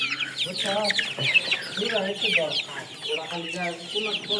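Chickens clucking steadily in a poultry shed during cold winter weather, many birds close by with overlapping calls throughout, and a faint voice is also present.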